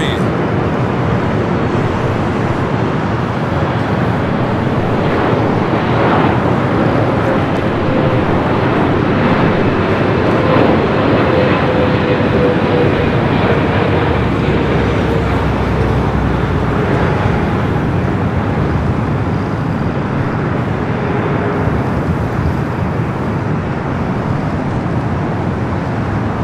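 Air China Boeing 777 at Los Angeles airport, a steady loud broadband jet roar with slowly shifting engine tones sustained throughout, heavy wind-like rumble.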